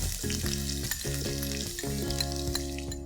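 Green chilies, crushed ginger-garlic and chopped onions sautéing in a pan for spicy village-style chicken, a steady sizzle with stirring noises over a tonal musical backdrop.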